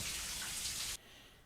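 Water runs from a shower in the 1960 film Psycho, a loud, steady rushing hiss that cuts off abruptly about two-thirds of the way through and leaves near silence.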